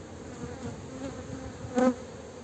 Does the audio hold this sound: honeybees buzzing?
yes